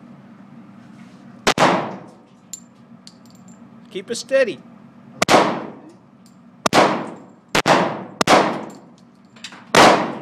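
Gunshots from a newly received handgun ring out at a shooting range, six sharp loud cracks with ringing decay spaced a second or two apart, with people talking between shots.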